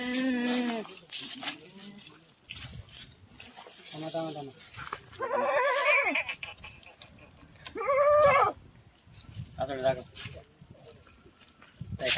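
Kathiawadi milk goats bleating near at hand, repeated loud wavering calls spaced across the span, with quieter voices between.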